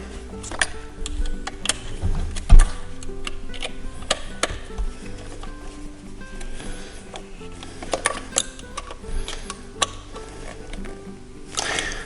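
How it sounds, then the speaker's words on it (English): Tightening the top screw of a Traxxas RC car motor mount: scattered small metallic ticks and clicks from the screwdriver and screw, close and fairly quiet, in an uneven rhythm over faint background noise. "and then we'll tighten that top screw down"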